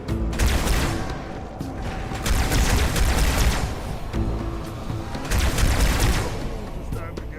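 Carbine gunfire in Halo 2, a dense continuous barrage of rapid shots and booming impacts filling the whole stretch, loud and busy, with battle noise layered throughout.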